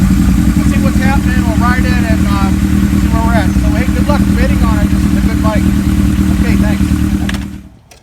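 A 1977 Kawasaki KZ1000A motorcycle engine idling with a loud, steady low rumble, while a person talks over it, until the sound cuts off at the end.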